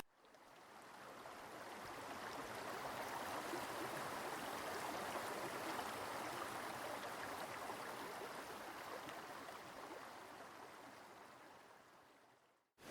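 A stream at Three Shires in the Peak District flows in a constant, broad rushing wash of water that fades in and out and holds steady with no voices.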